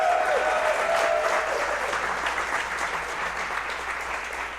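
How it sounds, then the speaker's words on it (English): A live podcast audience in Houston breaks into steady applause, a dense wash of clapping that fades slowly, with a brief voice heard at the start. "And then round of applause."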